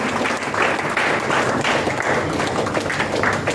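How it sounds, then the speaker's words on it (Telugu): An audience clapping at a stage event, with a steady dense burst of applause that holds throughout. "ఒకసారి గట్టిగా క్లాప్స్ ఇవ్వండి"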